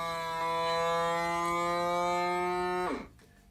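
Heat sealer closing a thick plastic bag gives a steady, strong humming whine for nearly three seconds, then a quick downward-sliding release of air as it lets go, heard alone.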